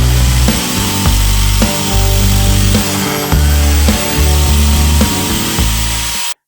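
A biscuit joiner cuts slots in wood with a loud, close, high motor whine that surges and dips in a rhythm of repeated plunges, then stops abruptly at the end.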